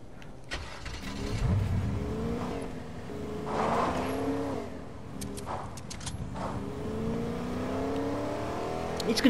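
A truck engine in the Fortnite video game revs and surges in waves, rising and falling in pitch as the vehicle moves nearby, loud and continuous.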